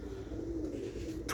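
Roller pigeons in a loft coo in a low, steady murmur that runs throughout, with a brief sharper noise at the very end.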